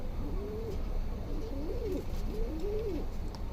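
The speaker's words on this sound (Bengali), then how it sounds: "এই যে এটা হচ্ছে আমার একটা কবুতর যেটা অসুস্থ" A sick baby pigeon with loose green droppings coos softly in three or four repeated rising and falling phrases, close by over a low steady background rumble.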